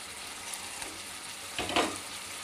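Fried potatoes sautéed with spices in a pan for a banana flower dish, a faint steady sizzle with a louder stirring scrape near the end, no talk.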